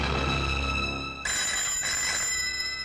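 A telephone bell rings in a dramatic film scene, a bright metallic trill that breaks off and starts again in clear bursts with no one speaking over it.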